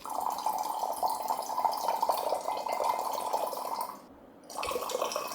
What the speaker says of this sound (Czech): Ideme do toho naliať vodu